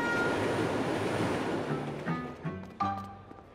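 Trains rumble through a busy railway station, a broad roar that gradually fades, followed by short tonal horn-like blasts and mechanical clanks toward the end, with no voices.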